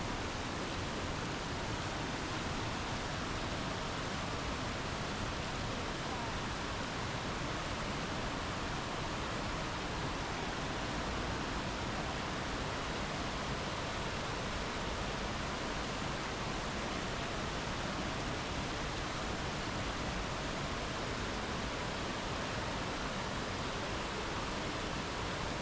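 A waterfall pours off the rocks in Sinclair Canyon in the Canadian Rockies, giving a continuous, even broadband rush at moderate distance with no pauses or other sounds.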